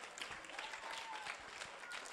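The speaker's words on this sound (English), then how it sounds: "A big round of applause to our teachers here." Applause from the audience at a youth graduation and devotional gathering at a Sai Center, a steady wash of clapping held at moderate distance for about two seconds with no voices over it.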